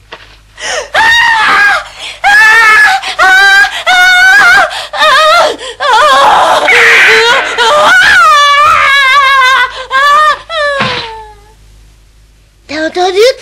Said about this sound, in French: T'as entendu quelqu'un crier?